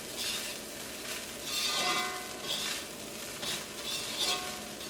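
Chicken fried rice being stirred in a hot pan, with a steady sizzle and soft scraping that rise and fall over several strokes, close and alone with no talk.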